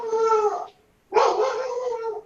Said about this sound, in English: Not my dog. That's my dog.